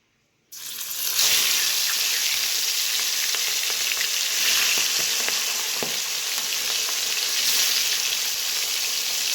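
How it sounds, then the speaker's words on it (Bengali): Fish pieces coated with salt and turmeric, vetki being fried for a fish curry, hit hot oil with a sudden loud sizzle, then keep frying in a steady, close, crackling hiss. "এখন আমি নুন হলুদ দিয়ে যে মাছগুলো রেখেছিলাম সেটি এই তেলের মধ্যে একে একে দিয়ে দেব।"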